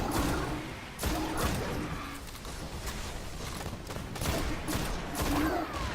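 Weapon fire in the video game Destiny cracks out in sharp, spaced shots, several loud reports every second or so over a busy background of game noise.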